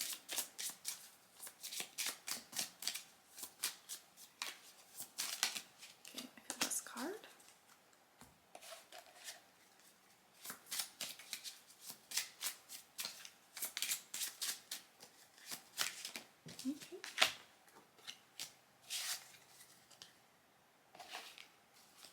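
Oracle cards are shuffled and drawn by hand, giving a run of crisp papery flicks and riffles in quick irregular bursts, close and soft, with a person talking intermittently between them.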